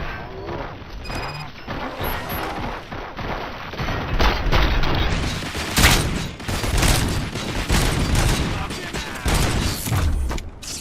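Rapid gunfire from RoboCop: Rogue City, in repeated loud bursts of shots mixed with clanking mechanical noise, growing denser and heavier after the first few seconds.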